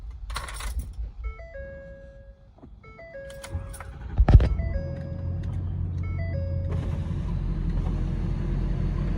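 A Ford F250 pickup fitted with new intercooler piping gets ready for its first test drive: a few electronic warning chimes ring out, then a sharp clunk and the engine fires up and settles into a steady, close rumble.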